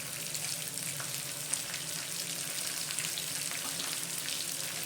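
Green chillies and finely chopped onions hit hot oil in a pan for lemon rice, a loud continuous sizzle and crackle with light stirring, steady and close with no speech.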